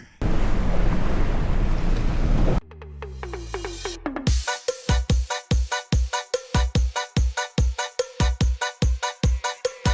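Rushing wind and water noise from a boat crossing to Koh Larn island, then a rhythmic series of thumping slaps as the hull pounds through waves.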